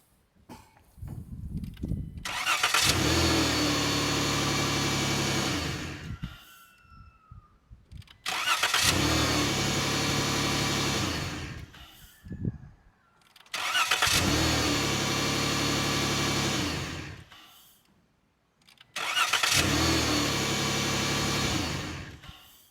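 Car engine being started repeatedly from a lithium jump starter on a dead battery, four separate crank-and-catch starts each running several seconds at a loud, steady idle before cutting off, with short silent gaps between them.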